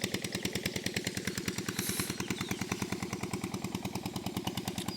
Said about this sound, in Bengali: শ্যালো মেশিন খটখট খটখট আওয়াজে চলেই যাচ্ছে।